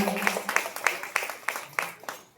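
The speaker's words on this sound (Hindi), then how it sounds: "माता के लिए तालियां तो बजाइए" An audience at a Devi Bhagwat katha gathering claps for Mata Kalratri in a series of loose, uneven bursts, roughly four per second, moderately close and fading out at the end.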